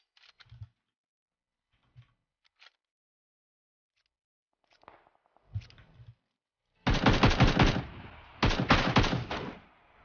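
PUBG gunfire: a few scattered distant single shots at first, then two long, loud, close bursts of rapid automatic fire near the end, separated by a brief pause.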